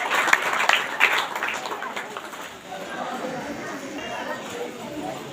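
Loud applause from a church congregation at a healing ministry gathering, dense clapping that swells then eases over several seconds with voices and chatter mixed in.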